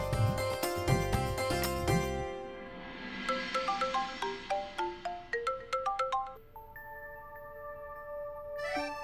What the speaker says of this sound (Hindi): मैं उसे फोन करके बता देता हूँ।